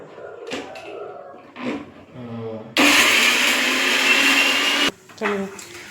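Mixer grinder whirring at full speed as spices are ground for a village-style chicken curry, a loud steady two-second burst that cuts off abruptly, with quieter speech before and after.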